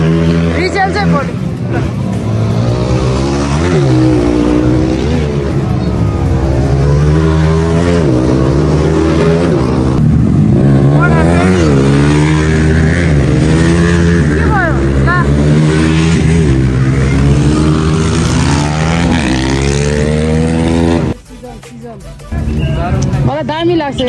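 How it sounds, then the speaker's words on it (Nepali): Dirt bikes at a race in Pokhara rev hard, their loud engine notes rising and falling in overlapping sweeps for about twenty seconds before cutting off abruptly. "अहिले चाहिँ भने डर्ट बाइकको रेस सुरु भइसकेको छ"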